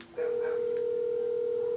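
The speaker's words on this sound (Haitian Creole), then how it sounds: "c'est téléphone de femme là il a sonné" A mobile phone rings with a steady, sustained electronic tone that starts abruptly and continues unbroken, loud and close, with no speech over it.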